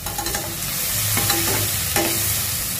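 Turmeric and salt are stirred into a potato curry frying in oil in a pan, with a steady sizzle and a few scrapes of the spoon against the metal, close and continuous.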